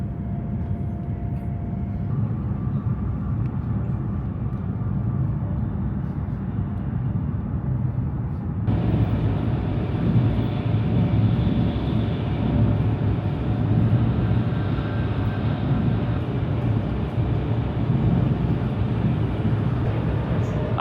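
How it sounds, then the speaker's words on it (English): A continuous heavy rumble of a high-speed train rolling along a viaduct toward Beijing, loud and steady, with a sudden brighter rushing roar joining partway through. "the train pops out onto viaducts and speeds toward Beijing"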